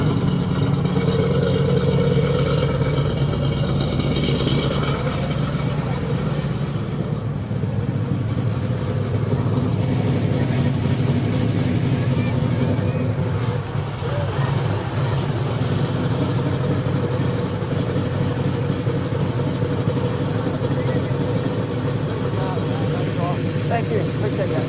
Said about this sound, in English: Let's hear that engine.